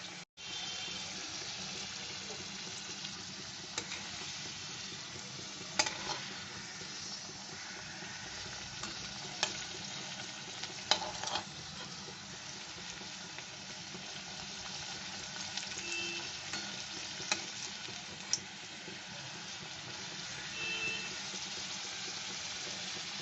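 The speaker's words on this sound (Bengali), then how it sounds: "গোল্ডেন করে ভাজবো ফিরে আসছি" Egg and cheese bread balls frying in a pan until golden, a steady low bubbling sizzle with a few brief clinks and taps, fairly quiet and without talking.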